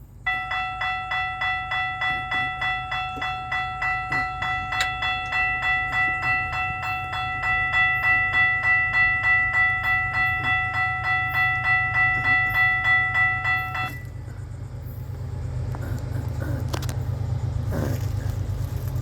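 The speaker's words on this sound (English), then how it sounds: "I can hear the train." A train rumbles steadily past a railroad crossing, close and loud, while the crossing bells ring a steady chiming pattern for most of the passage and then stop as the cars keep clattering by.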